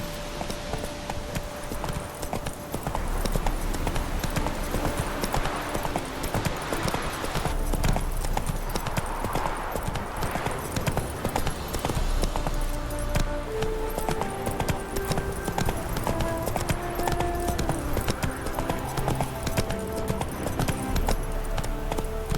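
Geralt's horse Roach gallops in The Witcher 3, a steady, rapid clip-clop of hooves running close up for the whole stretch, with music playing underneath.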